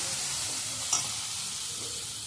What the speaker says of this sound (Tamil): இஞ்சி பூண்டு போட்டு நல்லா வதக்கி வச்சுக்கலாம்.